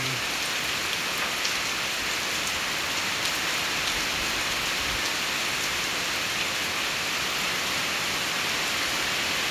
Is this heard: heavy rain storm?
yes